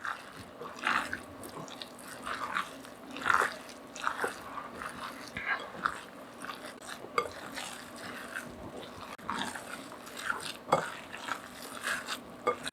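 Minced beef mixture is squished and kneaded by hand, giving repeated wet, sticky squelches and soft slaps in an uneven rhythm, close and with no talk.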